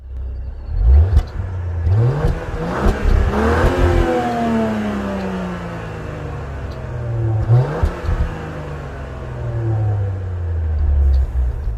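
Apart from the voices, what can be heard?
2021 Range Rover Velar exhaust revving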